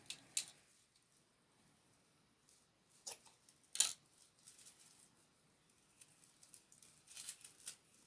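Scissors cut ribbon while a homemade gift set is wrapped, making a few faint, sharp snips and light handling clicks that stand out against near silence.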